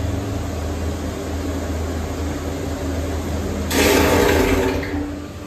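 Water draining and rushing out of a farm irrigator after the last cycle, a steady broadband wash over a low mechanical hum that swells louder for about a second before easing off.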